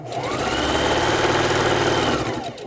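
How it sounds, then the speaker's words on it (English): Sewing machine stitching quilt pieces for four patches and flying geese, a close, steady mechanical whirr with rapid rhythmic needle chatter running continuously before slowing to a stop. "let me go a couple more stitches"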